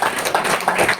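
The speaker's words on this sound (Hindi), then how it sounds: "इतने ज्ञानियों के लिए तालियां होनी चाहिए" Audience applause at a Hindi-language lecture, a brief close burst of many hands clapping, loud and dense for about a second.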